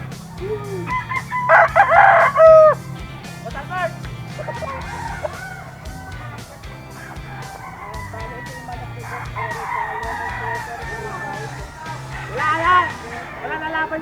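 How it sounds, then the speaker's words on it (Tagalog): Several roosters crow loudly and cluck at a cockfight in Bulacan, Philippines, over a busy background of people talking and crowd noise. "Ito yung mga manok ni Boss Eric mga idol."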